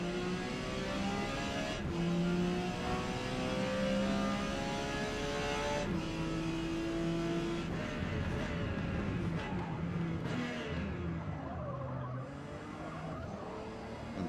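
A Porsche 956 race car engine in Forza Motorsport wails down the Kyalami straight, a loud continuous high-pitched howl climbing through gear changes with brief drops between shifts.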